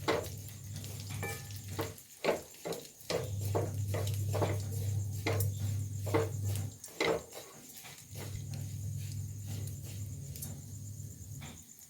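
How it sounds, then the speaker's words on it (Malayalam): Grated coconut fries in oil for an Onam sambar while being stirred, a low steady sizzle broken by repeated scraping strokes of the spoon against the pan, fairly quiet and close, with no talking. "നാളികേരം മൂത്ത് വരുന്നുണ്ട് ഒന്നും കൂടെ മൂക്കണം"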